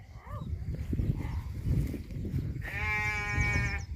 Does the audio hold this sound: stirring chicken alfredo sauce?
no